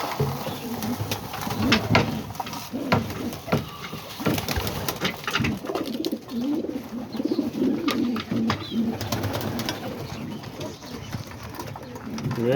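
Homing and roller pigeons coo in low repeated throaty calls while feeding from a bowl, close by, with scattered pecking and shuffling clicks and a voice talking now and then.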